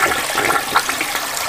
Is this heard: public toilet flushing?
yes